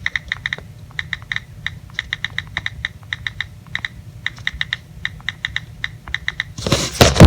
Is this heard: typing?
yes